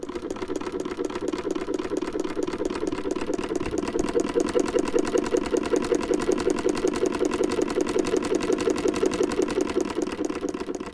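Vintage 1950s Singer 319 sewing machine running steadily, a close, rapid rhythmic clatter of the needle mechanism that holds an even pace throughout and grows slightly louder midway.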